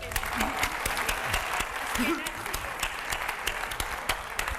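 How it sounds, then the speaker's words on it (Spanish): An audience applauds José Weinstein at a comedy talk show, steady dense clapping filling the room with a voice or two heard briefly underneath. "José Weinstein, un aplauso para él."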